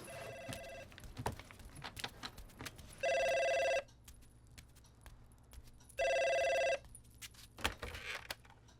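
Indoors, a telephone rings in two distinct, loud electronic bursts about three seconds apart, separated by quieter room noise and faint clatter.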